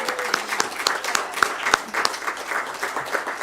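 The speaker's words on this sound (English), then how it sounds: "So let's give them a round of applause too." An audience at a general meeting applauds the team in a short burst of hand clapping that stays fairly steady and close throughout, with no talking over it.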